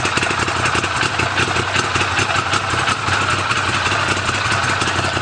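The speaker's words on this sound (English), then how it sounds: "So you can hear that exhaust. Definitely a hotter cam than what we have in our standard Wildcat." An Arctic Cat Wildcat X Limited side-by-side with a hotter cam idles close by, its exhaust giving a steady, loud, slightly lumpy rumble with no talking.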